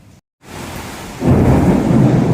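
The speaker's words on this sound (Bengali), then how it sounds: "আর প্রচুর মেঘ করে এসছে, আর এখন খুব বৃষ্টি হচ্ছে" Heavy rain with thunder, a brief cut to silence and then a dense roar of downpour that swells louder midway, with no voices.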